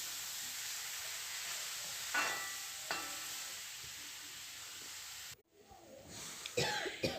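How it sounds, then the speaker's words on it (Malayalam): Chopped ginger and garlic sauté in a pan for a simple chicken curry, giving a steady soft sizzling hiss. A couple of short coughs break in, and the sizzle cuts out near the end with some light clatter. "ഇതിലേക്ക് രണ്ട് കഷ്ണം ഇഞ്ചി അരിഞ്ഞു വെച്ചിരിക്കുന്നതും വെളുത്തുള്ളിയും കൂടി ചേർത്ത് നന്നായിട്ട് വഴറ്റിയെടുക്കാം"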